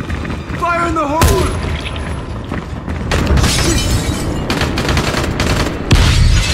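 A grenade explosion in the video game Dying Light, a sharp burst followed by scattered crashing and rumbling debris, loud and close, with game voices shouting over the noise.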